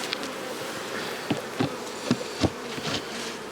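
Honey bees swarm around an opened hive with a dense, steady buzz near the listener, broken by a few soft knocks.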